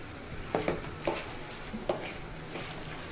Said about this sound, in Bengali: আবার ভালোভাবে মেখে নিতে হবে